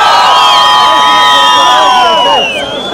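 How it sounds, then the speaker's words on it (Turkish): A crowd at an outdoor snow festival in Hakkari cheers and shouts in support of a boy named Cihat, a loud, continuous roar of overlapping voices and whoops that tapers slightly at the end. "Cihat'a bir moral alkışı"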